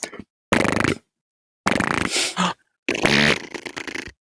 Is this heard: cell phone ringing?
no